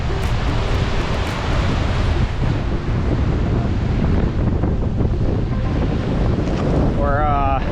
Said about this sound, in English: Raging rapids